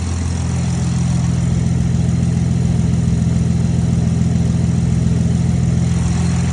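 A Toyota Supra MK5 with its B58 engine idles right after starting, a loud, even, throbbing drone held steady throughout, heard up close.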